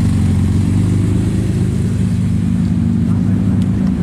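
Porsche supercars, three GT2 RS, a Carrera GT and a 918, arriving at a Cars & Coffee meet in Luxembourg, a loud, close, continuous engine drone with deep low rumble throughout.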